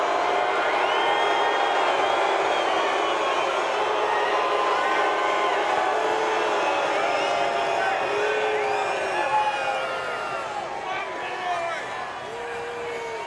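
A crowd at the NASCAR Xfinity Series championship cheering for Ty Gibbs, the 2022 champion: continuous distant roar with whoops and shouts, fading slightly toward the end.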